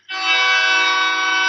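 A loud train horn sounds close by in a single sustained, harmonically rich blast that starts abruptly and holds steady to the end.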